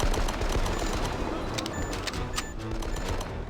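Rapid gunfire in the video game Die Hard: Nakatomi Plaza, dense continuous bursts of shots with game action noise throughout, loud and close, no talking.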